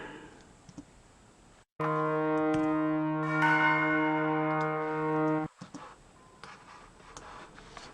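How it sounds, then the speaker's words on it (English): Tubular bells isolated from the mix of an album ring out in sustained, overlapping struck tones for about four seconds, loud and alone, with a faint background before and after. "I think the last interesting bit is the tubular bells."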